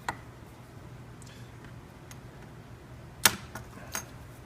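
A turn signal wire on a 2008 KLR650 motorcycle is cut with one sharp, close snip, preceded and followed by a few faint clicks in an otherwise quiet space.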